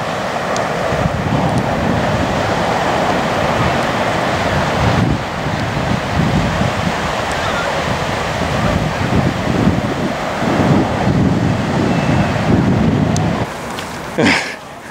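Ocean surf rolls onto the beach at Burleigh Heads, Queensland, with surfers out on the water, a steady loud wash of waves heavily buffeted by wind gusting across the microphone throughout.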